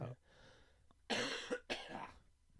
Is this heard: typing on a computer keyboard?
no